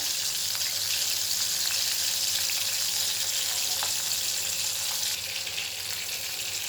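Dried fish (karuvadu) fries in a pan for a thokku, a continuous close hiss of sizzling oil with small crackles and no talk.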